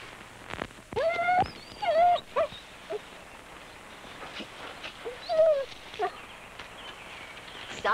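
A dog whimpering and whining in several high, wavering cries spread over a few seconds, close by with quiet background and light movement sounds between.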